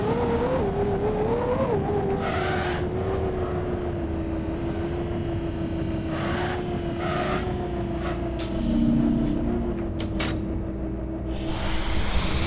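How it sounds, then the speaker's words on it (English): Vehicle driving through a hangar gate in the Star Citizen game, a steady engine hum with a rising whine, joined by clanks and thuds near the end. "Oh yeah, let's drive through there."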